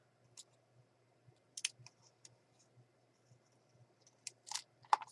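Scissors snip through a paper scrap for a journal page, a few sharp crisp cuts scattered across a quiet room, close and fairly soft with brief gaps between them.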